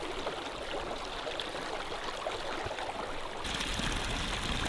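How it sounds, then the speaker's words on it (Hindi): Water of the Passu river in northern Pakistan rushing steadily, a broad continuous wash of flowing water heard close and fairly loud, growing slightly stronger near the end, with no voices. "नीचे से पानी ऊपर आता है और फिर वापस नीचे चला जाता है।"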